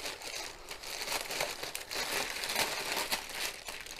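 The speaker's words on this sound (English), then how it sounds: "cut the bag open" A plastic bag holding diamond painting kits is cut open with blunt scissors, giving close, continuous crinkling and rustling of plastic with no talk.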